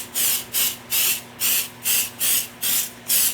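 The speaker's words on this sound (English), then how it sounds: "So I'm going to just do a light spray of my Pixie spray over the back of my stencil." Pixie spray adhesive is misted onto the back of a stencil in seven short, evenly spaced hissing bursts, each about a third of a second long, close and clear with no talk.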